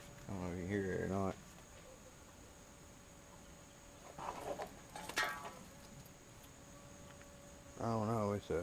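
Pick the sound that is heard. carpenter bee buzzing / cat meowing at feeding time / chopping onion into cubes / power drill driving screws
carpenter bee buzzing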